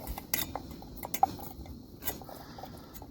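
Melted wax firestarter mixture stirred quickly in a metal container, giving faint, irregular clinks and scrapes of a utensil against the sides at close range, with no speech.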